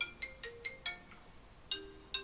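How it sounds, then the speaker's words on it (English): A phone ringtone plays a bright electronic melody of short repeating tones in quick bursts, a pause, then two more notes, fairly clear against a quiet background with no talking. "Oh no, I gotta answer the phone."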